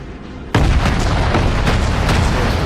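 Naval guns in a video game fire a heavy sustained volley, a sudden loud onset of dense overlapping booms and blasts that roars on continuously, with sharp reports punching through the rumble.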